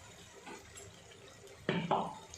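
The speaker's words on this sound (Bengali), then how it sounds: "এবার একটু জল দিয়ে দিয়েছি," Water is poured into a pot of home-style Bengali chicken curry with potatoes and garlic, a quiet splash and short gurgling pour in two brief bursts near the end, preceded by faint kitchen clatter.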